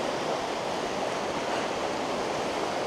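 A river in the taiga flows nearby with a loud, even roar of rushing water that holds steady throughout.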